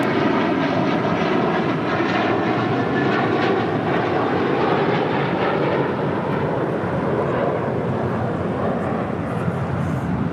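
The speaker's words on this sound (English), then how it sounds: "That's Hawaiian Airlines Flight 3 heading to Honolulu, taking off there on the north side." Hawaiian Airlines jet taking off from the north side at LAX, bound for Honolulu: a loud, steady, close engine roar that holds strong and unbroken for the whole stretch.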